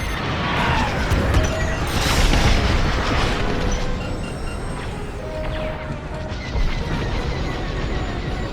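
Enemy ships exploding in Star Wars Squadrons space combat, dense booming crashes and rumbling blasts layered over continuous engine roar and game noise, loud and unbroken throughout.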